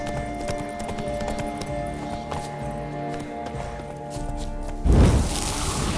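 Horse galloping in The Witcher 3: Blood and Wine, a steady rapid clip-clop of hooves throughout, with a heavy thud and rush near the end and background game ambience.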